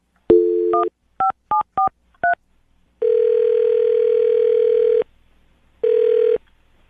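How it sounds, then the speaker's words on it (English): Touch-tone beeps from a phone keypad, a quick string of short dial tones followed by two longer steady ringback tones with a pause between. "I'm going to dial her phone number right now"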